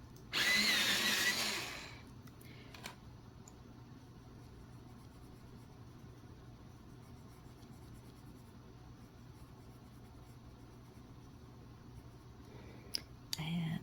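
Brief loud whirring burst of an electric sharpener grinding a Brutfuner Macaron colored pencil, lasting about a second and a half at close range, then quiet room tone with a faint click near the end.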